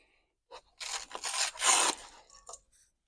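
Snips cut and pull at the packaging around a Trek Emonda SLR bike, with short rustling, rasping scrapes in a few bursts, close and fairly quiet.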